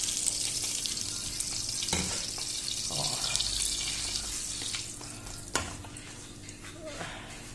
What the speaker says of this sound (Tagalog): Tapos lalagyan natin ng oil.